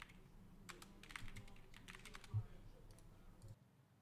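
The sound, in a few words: typing on a computer keyboard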